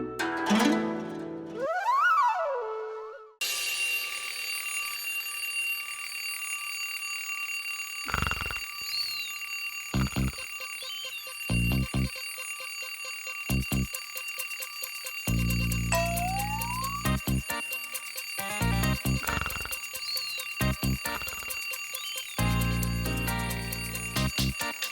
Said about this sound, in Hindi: अलार्म कब से बज के बजे जा रहा है